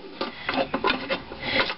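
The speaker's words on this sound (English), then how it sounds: "I'm going to put the pan in" A Hamilton Beach Home Baker bread machine pan, model 29881, is pushed straight down into the machine and twisted into place, giving a run of close, dry scraping and knocking clicks over under two seconds.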